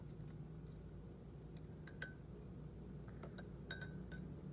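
A spoon clinks lightly against a glass of water as salt is added, a few sharp, faint taps spread across a steady low background hum.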